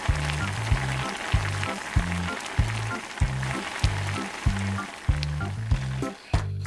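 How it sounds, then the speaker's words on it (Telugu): Cashews sizzling steadily in hot oil in a pan while cooking a dhaba-style chicken dum biryani, a continuous crackling fry with regular low rhythmic thumps underneath, close and fairly loud. "ఇందులోనే కొంచెం జీడిపప్పు అయితే వేసుకొని బాగా వేపుకోవాలి."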